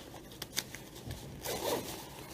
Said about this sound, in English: I'm going to close my inner zipper first.